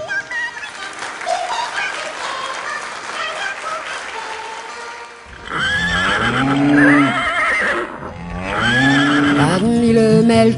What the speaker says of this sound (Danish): Hest.